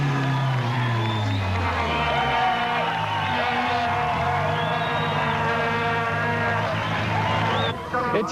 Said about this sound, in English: Lawrence made it home safely, entering the Nelspruit showgrounds to tumultuous applause.